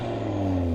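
A close-up burst of revving from the five-cylinder engine of a standard, unmodified Audi RS3 Sportback 8V, humming loudly and steadily with a rising tonal note.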